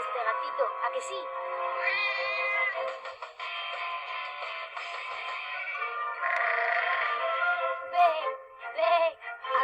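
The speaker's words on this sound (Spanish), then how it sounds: "¡Qué hermoso ese gatito!" A kitten gives long, drawn-out meows, one after another, in a farm-sounds setting, with a voice talking alongside.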